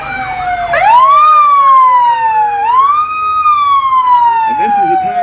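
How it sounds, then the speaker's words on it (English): Fire truck sirens wail loudly and close at a Halloween and fall parade in Oblong, Illinois, rising and falling in long continuous sweeps with faint crowd and road noise beneath. "they love to show off the sirens and the lights"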